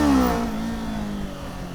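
A 2023 Kawasaki Z400 motorcycle engine, loud at first, its pitch falling and fading slightly as the bike pulls away, with a steady mechanical drone and no voices.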